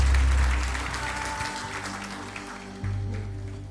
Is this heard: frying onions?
no